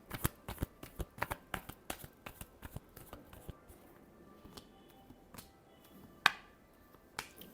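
Tarot cards are shuffled close by in a series of crisp riffling slaps, quick at first, then slowing to scattered taps with a sharper snap near the end.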